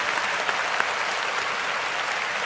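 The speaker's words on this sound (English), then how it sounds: "Can we give D'Amico Ryans a round of applause?" An audience breaks into steady, continuous applause, a dense wash of clapping that holds evenly throughout without any voices over it.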